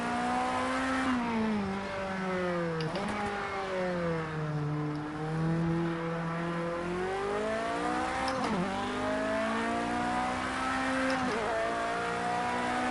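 A Toyota TS020 race car engine in the racing game Project Cars 2 screams loudly and continuously, its pitch rising and falling through repeated revs and gear shifts.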